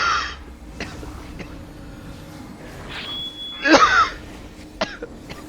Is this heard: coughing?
yes